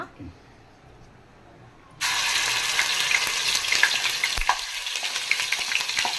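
Oil in a kadai bursts into loud, steady sizzling after a quiet start, a close continuous frying hiss with small crackles in a home kitchen while cooking chicken fry piece biryani.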